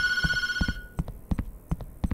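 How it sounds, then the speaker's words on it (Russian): A telephone in the horror game Tattletail rings with a bright electronic bell tone that cuts off early, while footsteps thud in a steady rhythm throughout. "А! Телефон!"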